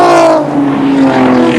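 A 2.5-litre alloy V6 Alfa Romeo race car roars hard at high revs across a hilltop while chasing a fuel-injected six-cylinder BMW at Amaroo, the engine note loud and close with a falling pitch as it passes.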